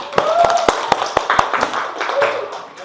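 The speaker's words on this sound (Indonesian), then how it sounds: "Oke, beri aplaus." Audience clapping during an Indonesian coding and artificial intelligence training session: a series of sharp, separate claps ringing out in an uneven rhythm, close and fairly loud, with a speaking voice partly overlapping them.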